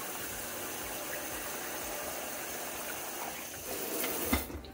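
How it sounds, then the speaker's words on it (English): Hot water rinsing through a CamelBak hydration bladder, a steady broadband rush of running water that holds evenly, then swells with a brief louder splash near the end. "We'll do a hot water pass through."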